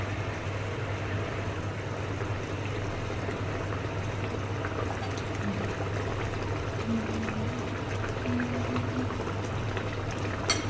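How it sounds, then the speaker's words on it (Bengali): Broth for rui posto fish curry boiling steadily in a pot on a gas stove, a constant close bubbling hiss with a low hum underneath and no talking. "ঝোলটা আমার ফুটে গেছে, এইবারে আমি মাছগুলো দিয়ে দেবো।"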